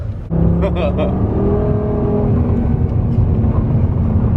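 Lamborghini Gallardo driving on a snowy mountain road near North Star, Lake Tahoe, its engine a steady loud drone with rising tones as it pulls, heard from inside the car.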